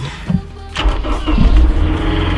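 A Honda S2000 engine cranks and catches, rising into a loud, close idle that settles into a steady rumble.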